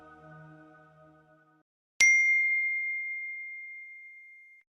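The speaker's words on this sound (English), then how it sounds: "I got a message in my phone." A single bright phone message notification ding rings out after a pause, sharp and clear, then lingers as a long fading tone; faint low sounds precede it.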